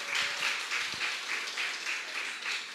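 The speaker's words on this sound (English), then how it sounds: "a round of applause for me, please" Rhythmic applause from an audience at an awards event honouring young people in Castries East, many hands clapping in a steady pulsing beat at moderate distance, fairly soft overall.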